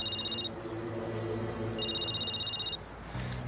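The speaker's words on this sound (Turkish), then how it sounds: "Annem arıyor." Mobile phone ringing with an incoming call: two bursts of a steady high electronic tone with a gap between them, fairly quiet over a low background hum.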